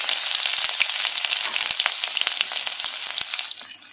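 Cumin and chopped ginger hit hot oil in a pan, giving a loud, dense crackling sizzle with sharp spitting pops throughout, close by and steady.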